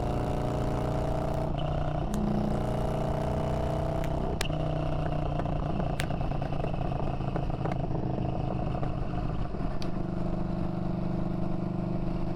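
Orange County Chopper motorcycle cruising on a highway, a steady low engine drone with constant wind rush and occasional faint clicks, loud and continuous from the rider's position.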